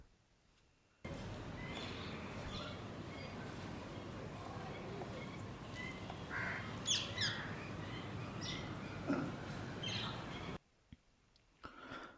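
Birds chirp intermittently in the morning around a rooftop where they are fed grain, over a steady outdoor hum, with a few brief tweets standing out near the middle.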